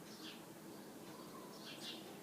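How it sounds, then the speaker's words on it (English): Yellow finches singing outdoors, coming in through open windows: faint, distant chirps and tweets surface in short bursts over a steady background hiss, with no talking. "I opened the windows so you can hear the birds"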